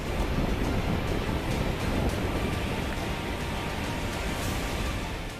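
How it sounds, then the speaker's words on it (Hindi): A swollen river rushes in monsoon floods in Uttarakhand, making a continuous, dense roar of churning water with no pauses and no voices. "उफान पर नदियां, दरक रहे हैं पहाड़।"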